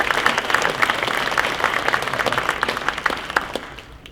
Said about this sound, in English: So a final round of applause for the honorees.